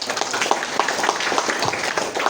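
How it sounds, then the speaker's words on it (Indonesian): Applause from an audience at a Partai Demokrat 24th anniversary gathering in Kabupaten Puncak, a fairly dense clapping that holds steady through the short stretch with scattered louder claps, heard alone without talk. "kita tepuk tangan."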